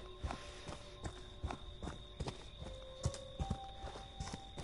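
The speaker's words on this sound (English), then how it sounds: "I hear footsteps." Footsteps in Friday the 13th, a run of evenly spaced, fairly faint thudding steps at a walking pace, clopping over a low ambient hum with a few sustained tones in the background.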